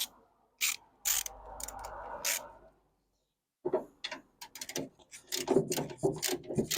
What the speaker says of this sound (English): I think we just go and tighten these up